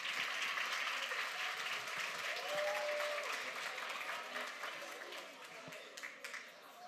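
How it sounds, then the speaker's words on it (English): Audience applause at a science and technology event session, a dense steady clapping that fills the space at fairly even loudness, with a few voices calling out faintly beneath it. "You can clap."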